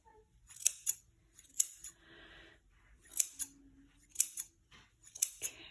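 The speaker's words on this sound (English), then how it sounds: "Then you're going to take your scissors and go all the way around." Scissors snip quickly around a yarn pom pom for earrings, trimming it all the way round: several crisp, close cutting bursts in an irregular rhythm with short pauses and no talking.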